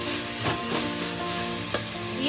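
Tomatoes frying in a pan for South Indian methi pulao, a loud close steady sizzle with a couple of spoon scrapes as they are stirred.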